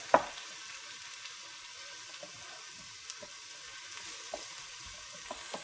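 Mushrooms frying in a Ninja Foodi multicooker for Salisbury steak sauce, giving a steady, low crackling sizzle with a few sharper clicks and taps from a utensil against the pot.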